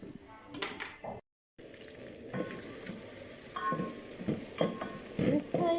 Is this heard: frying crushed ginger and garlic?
yes